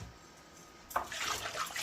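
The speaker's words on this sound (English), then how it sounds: "Then we push them on in the water" Halved collard greens pushed into a sink or basin of water: quiet room tone, then a sudden soft splash and sloshing swirl of water, close and brief.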